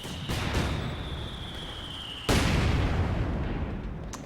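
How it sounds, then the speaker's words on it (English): A mortar shell explodes in the Company of Heroes 2 battle game, a sudden loud boom partway through followed by a rumbling decay over steady battlefield noise. "Was that 2 mortars? No, just the one."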